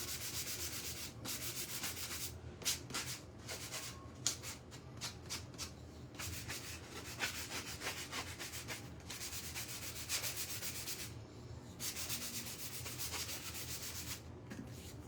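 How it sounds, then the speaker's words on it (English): Sandpaper rubbed by hand over a small craft piece for a patriotic centerpiece, a steady close scratchy rasp running continuously with brief pauses between strokes. "I don't think I want to use the same sanding thing for that."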